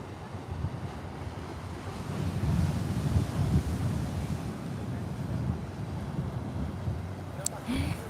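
Steady wind buffeting the microphone with a low rumbling roar at a seaside jetty, surf washing faintly underneath, and a brief faint sound near the end.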